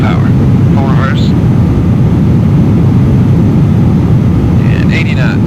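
Jet engines roaring at full reverse thrust as an airliner lands in a thunderstorm in the flight simulator Flight Unlimited III, a loud, steady, low rumbling roar throughout with faint tonal chimes above it.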